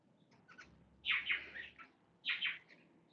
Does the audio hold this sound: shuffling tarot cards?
no